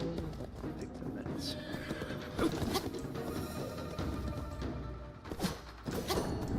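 A horse in the video game Where Winds Meet whinnies and snorts amid galloping hoofbeats and game effects, with someone talking over much of it.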